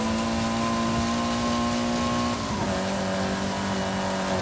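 A Peugeot race car engine in Forza Horizon 5's eliminator mode drones loudly and continuously at high revs, its pitch dropping sharply partway through as if shifting gear, with no talk.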